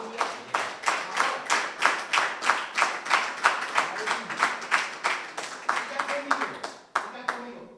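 A church congregation claps in a fast, regular rhythm during a sermon, with crisp, evenly spaced claps that carry on steadily before breaking off near the end, close and clear, with voices faintly underneath.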